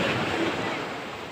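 A stormy sea on the high shore at Anapa churns, with a steady broadband wash of breaking surf and some wind buffeting the microphone.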